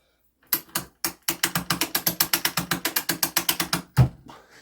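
An Ollie Baker mainspring winder ratchets steadily as a watch mainspring is tightened, about twenty crisp close clicks in an even rhythm, then one heavier clunk near the end, with no talking.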